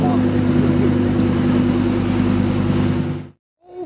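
A Lamborghini Aventador S engine sounds close and loud, holding a steady, throbbing drone for about three seconds before it cuts off abruptly, with voices mixed in.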